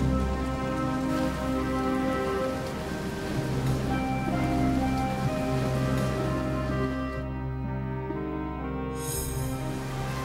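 Heavy rain pouring steadily over the land, a dense continuous hiss under a low droning music bed, loud and unbroken throughout with no voices.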